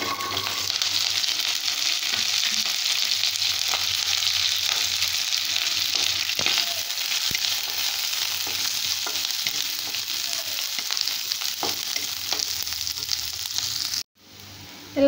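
Shallots, coconut, curry leaves, fennel, cashews, roasted gram, garlic and green and dried red chilies sauté in oil, making a continuous loud sizzle with faint stirring scrapes for about fourteen seconds before cutting off abruptly.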